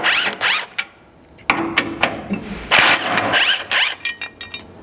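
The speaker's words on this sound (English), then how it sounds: "you just need a 12 mil socket to remove these 2 hex head bolts" Under a 4th-gen Toyota Tacoma, a ratchet with a 12 mm socket works two hex head bolts loose from a gas tank skid bracket, giving short close runs of sharp clicking separated by brief pauses.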